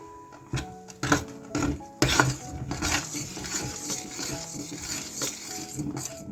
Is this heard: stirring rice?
yes